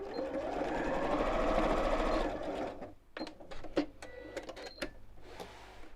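Sewing machine stitching across matched fabric seams, a loud rapid whirring run of about two seconds, then quieter clicks and fabric handling close by.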